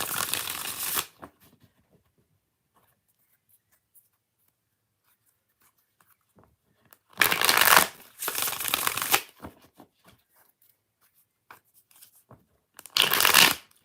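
Tarot cards are shuffled close up in three separate bursts of crisp, rapid riffling, with quiet pauses between them.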